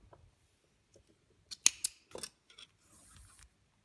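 Scissors snip through crochet yarn in a few sharp, close cuts, followed by a soft rustle of the yarn being handled.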